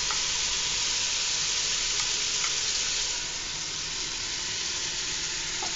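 Beans and meat sizzle and fry steadily in a pot, a dense continuous hiss close by with no talk.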